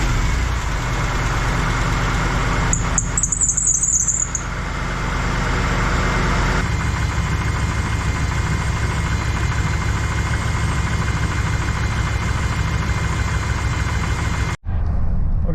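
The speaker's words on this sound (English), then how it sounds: "I'm going to start the engine, and I'm going to let it run as I'm adding coolant" A 2003–2008 Dodge Ram engine runs steadily at idle with a constant low rumble, loud and close, during a water pump replacement while coolant is added; a brief high whine occurs early on and the sound cuts off near the end.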